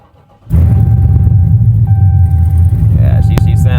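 A 2015 Dodge Charger with a freshly swapped engine cranks to life after a short silence, then idles with a loud, deep, steady rumble up close and a faint whine above it.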